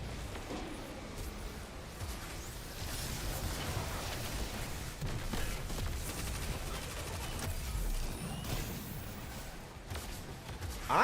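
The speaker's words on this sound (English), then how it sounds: "See, you've met my faithful machine gun." Machine gun firing in sustained bursts, loud and dense throughout with brief dips between volleys.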